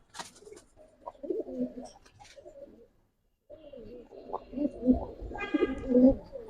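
Silver pigeon, an all-rounder bird, cooing in soft low repeated calls close by, with a brief quiet gap midway before the cooing resumes more strongly alongside some higher chirping.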